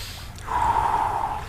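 A man's slow, deep breath drawn in close to the ear, one long steady airy rush with a soft gasp-like onset, held for about a second.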